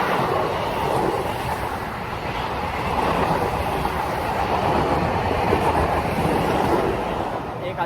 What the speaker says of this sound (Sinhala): කෝච්චිය ගියා ඉතින්